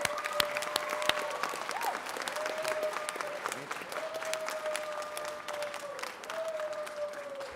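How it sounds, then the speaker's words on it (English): Audience applause for two-time Grammy winner Terrace Martin at an L.A. City Council meeting, a steady wash of clapping filling the room for several seconds with a few whistles riding on top. "Give him a round of applause."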